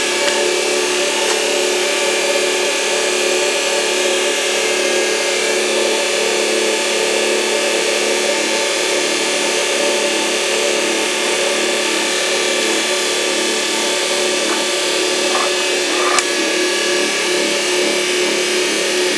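A homemade motor generator loop runs steadily on its first start, giving a loud, constant mechanical hum and whine with a broad noisy hiss and stable tonal bands, plus a brief click near the end.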